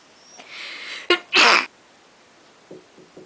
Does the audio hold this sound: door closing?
no